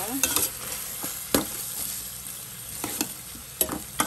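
Chicken tinola ingredients with black pepper being stirred together in a hot pan, a low sizzle under sharp spatula scrapes and clacks spaced irregularly, close and without speech.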